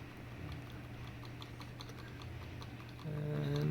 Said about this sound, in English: I'm going to keep hitting delete on my keyboard